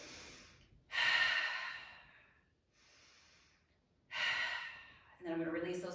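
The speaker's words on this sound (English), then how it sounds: "Take a couple deep breaths here" Deep breaths drawn in and let out during an overhead arm stretch in a toning workout, several loud close inhales and exhales with quiet pauses between, ending in a voiced sigh-like breath.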